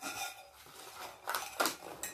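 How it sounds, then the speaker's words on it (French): A saucepan is picked up among dishes in a home kitchen while making rice balls, giving a few quiet metallic clinks and knocks in quick succession, close by. "faut que je prenne la casserole"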